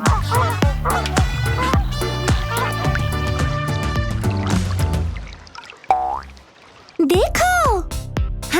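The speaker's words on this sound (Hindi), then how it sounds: "हंस सबसे बड़े उड़ने वाले पक्षियों में से एक है।" A swan in a children's animated wildlife cartoon gives a few rising, honking calls near the end, following a stretch of loud, busy background music.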